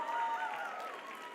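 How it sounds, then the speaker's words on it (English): A brief, fairly soft burst of audience applause greets a volunteer named Leo at a DECA keynote, fading slightly over its short length. "give Leo a nice round of applause"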